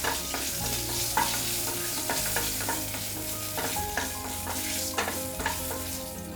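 Dried red chillies sizzle in mustard oil in a wok, a steady frying hiss with scattered crackles and scraping stirs throughout, close and continuous with no voices.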